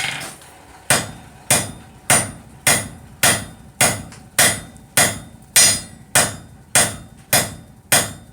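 A hammer strikes hot metal while forging a taper in one heat, about thirteen sharp ringing blows at a steady rhythm, loud and close with no voices.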